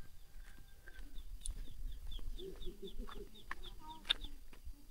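Chickens cluck around a rural Lao village where coffee is grown, a run of short, evenly spaced calls with a louder cry near the end over low background rumble and outdoor noise.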